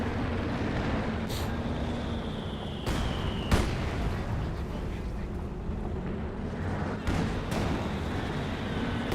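Mortar fire in Company of Heroes 2 sounds like several sharp, heavy thumps and blasts spaced out over a dense rumbling battlefield bed, with a whistling tone passing through.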